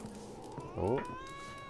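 A cat in The Witcher 3 gives a short, rising growl that swells into a brief snarl, close and clear over a low ambient background with no talking.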